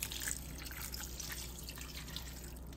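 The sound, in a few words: glass of water poured into minced meat and potatoes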